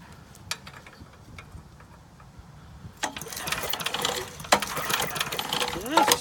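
A spark plug fires on a Briggs and Stratton 5hp flat head engine with quiet, sparse ticking at first, then a louder, busier run of rapid clicks and rattles close by.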